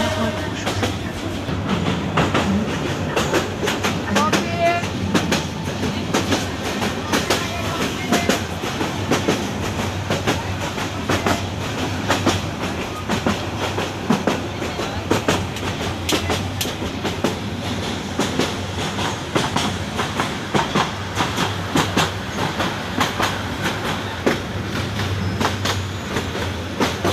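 The Kishoreganj Express intercity train rolls along the rails after leaving Kuliarchar, its steady rumbling clickety-clack of wheels rhythmic and close throughout, with no voices.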